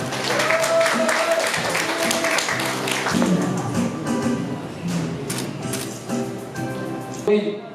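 Guests at a year-end gathering of a kidney-disability association applaud an award recipient, clapping mixed with background music and voices.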